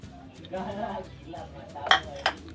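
Thai-style peanuts go into a pan, dry rattling and scraping with a couple of sharp metallic clinks near the end, faintly under quiet background sound.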